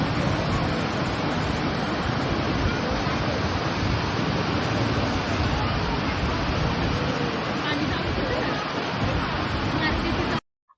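Water rushes steadily out of the two open gates of Khadakwasla dam during the monsoon, a loud, even roar that fills the scene and holds without a break until it cuts off at the end.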